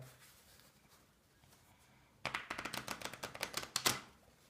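A deck of playing cards being shuffled by hand, quiet at first, then a rapid run of crisp riffling clicks and snaps up close.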